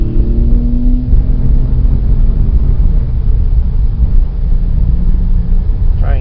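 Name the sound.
Porsche 997.1 S 4.1L engine accelerating out of a corner in third gear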